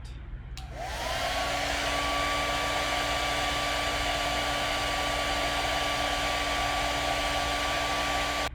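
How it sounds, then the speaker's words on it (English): A hair dryer drying clay switches on with a sharp click and whirs up into a loud, steady motor drone with a high whine, running continuously close by. "what about a hair dryer to dry your clay?"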